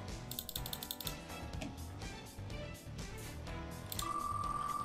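A prize wheel clicking as it is turned: rapid clustered ticks at first, then looser ticking over a busy background, ending with a sustained electronic beep.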